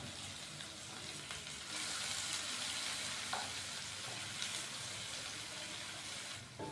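Chopped onion frying with cumin in a pan, a steady broadband sizzle holding throughout with a few faint scrapes of stirring and no talk.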